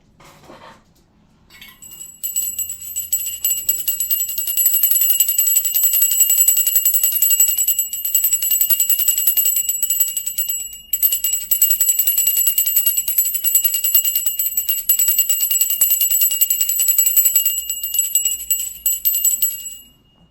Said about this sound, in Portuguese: Vou tocar um sino